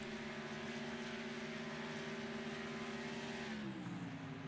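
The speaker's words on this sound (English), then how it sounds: "I hear the roar of Ads Robin engine back there." Race car engine roaring steadily at high revs in an endurance racing video game, the pitch shifting and dropping near the end as the car slows or changes gear, loud and continuous with no talk.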